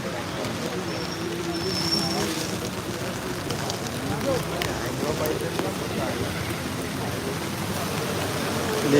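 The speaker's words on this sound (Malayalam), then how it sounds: "ഭയങ്കര മഴ" Steady rain pours down in a dense, unbroken hiss at a roadside in Kalarcode, Alappuzha, with faint scattered sounds over the wash.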